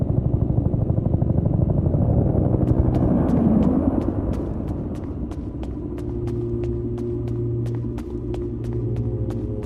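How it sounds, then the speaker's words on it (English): Evacuation helicopter in the horror game PeridiuM, inspired by The Thing, on a windy snowbound night, a loud rapid rotor chop and rumbling engine, close and steady, later settling into a droning hum. "Is that the evac chopper?"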